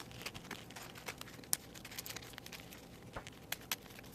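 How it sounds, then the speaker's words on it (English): Board game card decks shuffled one at a time, giving soft crinkling riffles and scattered sharp card snaps close up, with no talking. "then shuffle each deck individually"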